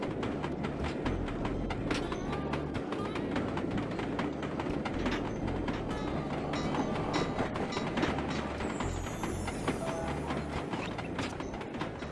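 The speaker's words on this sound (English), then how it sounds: "Alright, time to catch a train." In the video game Sly 2: Band of Thieves, a train rolls along its tracks with a continuous rattling, clattering rumble and faint rhythmic clicks, steady and moderately quiet throughout with no voices.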